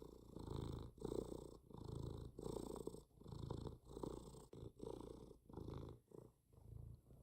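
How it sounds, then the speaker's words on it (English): A cat purrs close by in a steady rhythm, each rumbling breath separated by brief pauses, about ten cycles with nothing else audible. "Cat purring."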